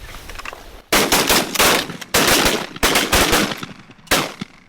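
Hunters fire shotguns at geese during an early-season goose hunt: several loud, close volleys of overlapping blasts arrive in quick bursts, separated by brief pauses.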